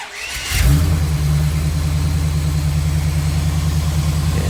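An old Chevy car engine cranks briefly, then catches and settles into a steady, loud, close idle that rumbles on without a break. No one speaks.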